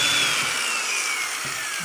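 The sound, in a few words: power drill drilling a 3/16 hole in a kayak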